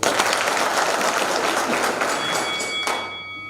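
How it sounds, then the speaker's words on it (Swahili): Applause from the audience at a live-streamed event, a dense burst of many hands clapping that carries on evenly for a few seconds, then tails off quickly with a last few scattered claps. "Tumpigie makofi."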